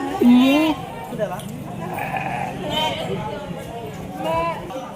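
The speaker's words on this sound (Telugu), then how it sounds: "ఇప్పుడు దాకా అరిచే మేక" A goat bleats loudly and close at a temple festival in Kanupuru, with one strong cry near the start and fainter bleats after, while people talk throughout.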